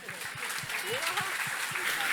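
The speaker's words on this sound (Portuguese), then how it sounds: "Uma salva de palmas pro cara aqui." An audience at a panel on building wealth in Brazil applauds a speaker, brief steady clapping with voices talking over it.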